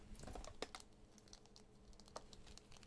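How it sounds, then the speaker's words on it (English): Fingernails click and tap in a quiet, close scatter of light irregular ticks, like soft typing, with faint crinkly rustles between them. "It's my nails clicking."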